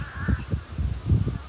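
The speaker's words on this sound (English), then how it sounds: "Accompanied by all these flipping crows." Several crows caw in a rapid run of harsh, close calls at sunset beside a construction site in the Philippines, about five or six squawks in a little over a second, loud against faint background hiss.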